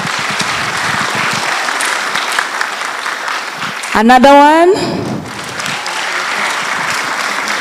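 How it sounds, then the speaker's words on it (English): An audience at a correctional service week event gives a warm round of applause; steady clapping runs throughout, briefly overlaid midway by a loud rising whistle or cheer before the clapping resumes. "let's give them a warm round of applause."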